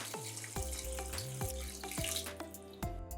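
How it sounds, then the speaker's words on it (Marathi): Hot water poured into a spiced masala curry base in a pan, with a steady running, splashing pour under repeated sharp clinks and knocks from a utensil against the vessel. "ह्याच्यात आपण गरम पाणी घालायचं आहे."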